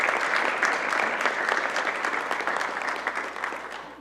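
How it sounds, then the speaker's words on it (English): An audience at a school results press event applauds a principal with steady, dense clapping that holds loud throughout and tapers only slightly toward the end. "Let's give Principal Phillips a round of applause."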